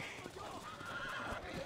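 A horse whinnies amid dense game noise, with hoofbeats and other clatter close by in a busy, steady mix.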